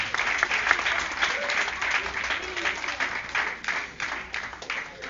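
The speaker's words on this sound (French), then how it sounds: "Je vous demande d'applaudir très fort." A festive martial arts school audience applauds loudly and steadily at an anniversary celebration, a dense wash of hands lasting throughout with a voice or two faintly mixed in.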